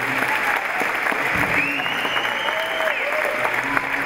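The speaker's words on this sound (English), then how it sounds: "please give a big round of applause" A school audience at a grammar school gives a big round of applause, a dense steady clapping with some voices and a whistle-like tone rising over it.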